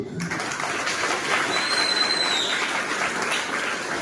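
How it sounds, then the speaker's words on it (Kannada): A crowd applauding a speaker at the Toofan programme, a steady dense wash of clapping held at an even level throughout, with no voices over it. "ಅರ್ಥ ಆದವರು ಚಪ್ಪಾಳೆ ಹೊಡೆದಿದ್ದಾರೆ"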